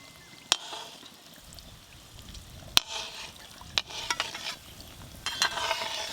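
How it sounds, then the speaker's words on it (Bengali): Langcha, Bengali sweets, frying in lightly warm oil, giving a soft, steady sizzle with occasional stirring clicks and scrapes of a utensil against the pan, close up and with no talking. "এই হালকা গরম তেলে কিন্তু ল্যাংচাগুলো ভাজতে হবে।"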